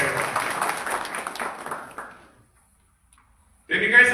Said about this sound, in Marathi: वाढदिवस त्यांना शुभेच्छा देऊन टाळ्या वाजवा मोरे साहेबांसाठी